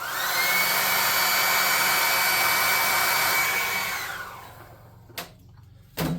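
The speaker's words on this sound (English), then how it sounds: "I don't ever like to use hair dryers on minis, unless they're cheapy ones" A hair dryer blows steadily and loudly on paint on a miniature figure, then cuts off around four seconds in, leaving near silence broken by two short bumps.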